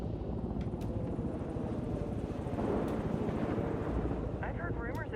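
A helicopter flies in the video game Ghost Recon Wildlands, heard as a steady, heavy low rumble of engine and rotor from inside the cabin. Voices talk over it toward the end.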